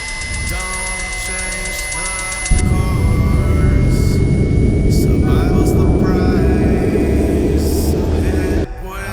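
The S-17 is a hypersonic space plane in a sci-fi short film, a license-built version of the Lockheed SR-72. Its loud jet roar cuts in abruptly after a tonal hum and holds steady and powerful before dropping near the end.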